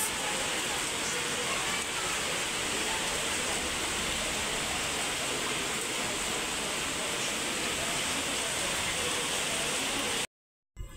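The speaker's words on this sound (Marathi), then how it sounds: "खूप जोरात पाऊस पडतं आणि आता हा झाड, त्यांनी एवढी हवा आहे की आता हा झाड पडेल असं वाटतंय." Heavy nonstop rain pours down amid strong wind, a dense, steady roar of falling water that fills the whole stretch before cutting out abruptly near the end.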